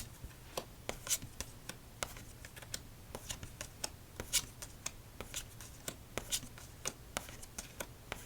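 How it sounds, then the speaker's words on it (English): Playing cards from a crayon-themed deck given a casino-style shuffle during solitaire, heard as close, crisp riffling bursts and taps repeating irregularly on a table over a quiet background. "Let's do a casino shuffle."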